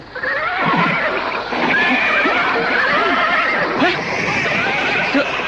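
Horses neigh and whinny repeatedly as a radio drama sound effect, loud and close, with some hoof clip-clop mixed in.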